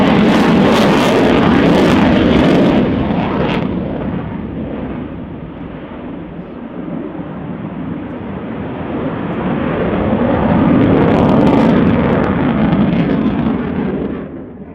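A jet aircraft flies past at the RIAT 2018 airshow at slow speed with its large dorsal air brake extended. Its loud, broad engine roar rises, eases in the middle, then swells again and holds throughout.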